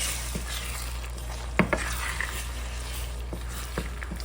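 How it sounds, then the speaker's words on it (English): Scrambled eggs are stirred in a hot skillet, giving a steady soft sizzle with a few sharp spatula scrapes and taps against the pan. "I stir mine like this right here."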